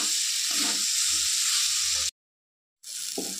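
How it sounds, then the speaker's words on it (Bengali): Fried potatoes and soybean chunks sizzle steadily in a pan as they are stirred, a close, continuous hiss that cuts out briefly and then resumes. "তো এখন ভেজে রাখা আলু সয়াবিন দিয়ে দিচ্ছি, দিয়ে একটু নেড়ে চেড়ে নেব।"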